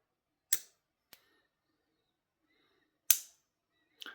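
Small slipjoint pocket knife blade snapping into its locked position: two sharp, crisp clicks spaced a few seconds apart, each followed by a lighter tick, close and clear against near silence.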